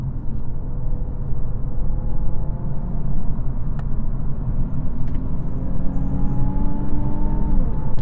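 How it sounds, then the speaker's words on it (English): Engine rumble from a 2018 Infiniti Q50 3.0t Sport while driving, its tone sliding and shifting as the transmission changes gear, steady and close inside the cabin without talk. "Let's see if that transmission still downshifts very slowly."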